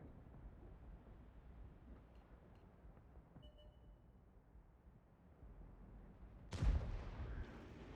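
A single sharp, loud tank cannon blast from the FV3805 in World of Tanks near the end, booming over a low steady rumble of engine noise.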